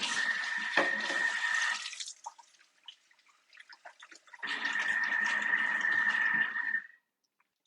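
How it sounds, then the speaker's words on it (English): Tap water runs into a kitchen sink in two bursts of hand washing, about two seconds and then nearly three, separated by softer splashes and drips, close and fairly quiet. "let me just wash my hands"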